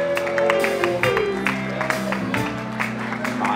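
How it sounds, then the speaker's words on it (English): Audience applause at a wedding reception, steady clapping that fills the room throughout, with music and voices layered beneath it. "Give them a big round of applause."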